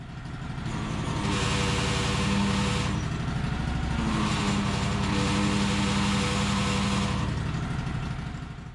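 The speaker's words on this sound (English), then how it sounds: "who have a lawn tractor with a Tufftorq hydrostatic transmission eventually will recognize this sound when attempting to go forward or reverse" A John Deere lawn tractor with a Tufftorq K46 hydrostatic transmission moving under power, a loud, steady engine drone with a whining, groaning transmission note that rises in the middle and holds, close by, with no talk.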